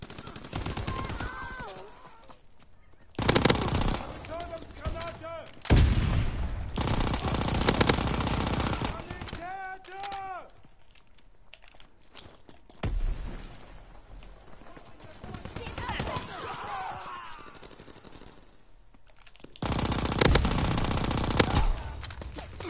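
Rapid video-game gunfire in bursts, loud and close, mixed with game effects and voices talking over the shooting.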